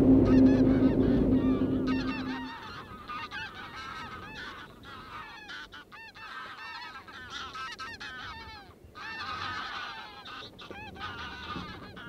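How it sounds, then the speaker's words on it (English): Greylag geese honk repeatedly in flight over Orkney fields during wildfowling, a flock calling in overlapping, rhythmic honks that carry on steadily, moderately close, after a burst of low wind rumble at the start. "Eight grey lags there."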